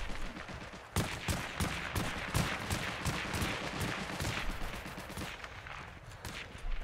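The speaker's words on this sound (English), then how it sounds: "Why were you shooting this way?" Rapid bursts of gunfire in the WWII shooter Heroes & Generals, close sharp cracks repeating in quick clusters for several seconds against a noisy battlefield backdrop.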